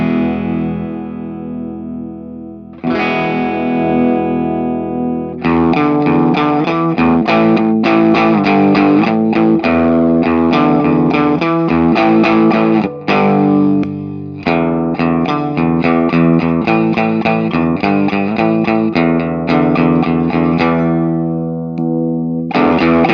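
Electric guitar through a Pettyjohn Electronics Chime preamp/overdrive pedal with the bass cut via its low-cut control, ringing sustained chords followed by busier strummed and picked passages, loud and continuous, with brief breaks between phrases.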